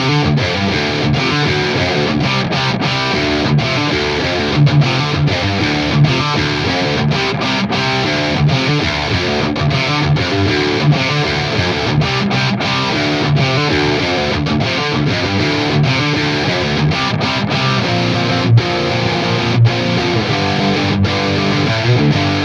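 A heavily distorted electric guitar plays a dense, sustained riff with a thick, saturated tone through the AmpliTube 5 amp simulator, loud and continuous with no voices.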